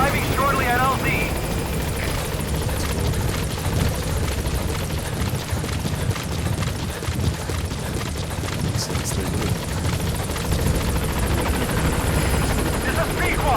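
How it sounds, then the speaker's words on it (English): A helicopter arrives in Metal Gear Solid V: The Phantom Pain, its steady rotor and engine roar loud and continuous throughout, with game voices speaking briefly near the start. "call on the helicopter from Mother Base."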